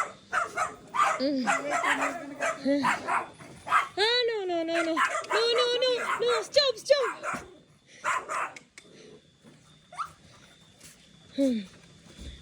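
Several dogs bark and yelp in bursts, some high and whiny, mixed with people talking close by, at night in the Philippines.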